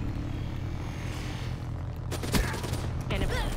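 Call of Duty Black Ops 3 gunfire: a dense burst of rapid shots rings out in the middle, followed by scattered further fire over a background rumble, with a voice talking over it.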